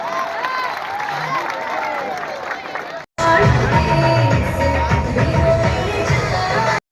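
A crowd claps and cheers to open a district under-14 cricket tournament at a village school. The applause is loud and continuous, with voices and shouts mixed in, and pauses briefly before swelling again.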